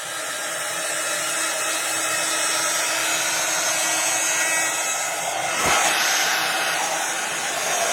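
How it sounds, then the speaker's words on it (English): A handheld craft heat tool blows steadily as it warms up, a loud, continuous close-up whooshing roar with a brief bump partway through and no talk. "get my heat tool out. I'm going to warm it up."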